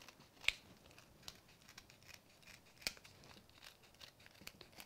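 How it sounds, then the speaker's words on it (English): Scissors snip along the edge of a paper card panel, with a few crisp, isolated cuts and light paper rustling in a quiet room. "now I'm going to bring my scissors in and we will trim this"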